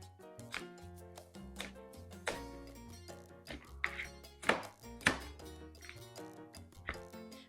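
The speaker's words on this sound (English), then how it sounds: "All right, so we have our apples chopped." Apples chopped on a cutting board in a home kitchen, a run of sharp, irregular knife taps and clunks, close and fairly quiet, with a few louder strikes.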